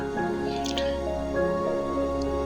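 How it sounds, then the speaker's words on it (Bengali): Freshly washed cabbage draining in a strainer, with water dripping and trickling steadily through the mesh at close range, a low tonal hum running underneath. "এই যে ছাকনিটার মধ্যে আমি ঝরাই লইতাছি যাতে পানি এক্সট্রা না থাকে"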